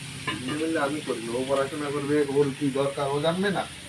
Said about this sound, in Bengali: আলুটা আমি আলুটা দিয়ে দিলাম এবার একটু নাড়াচাড়া দিয়ে দিই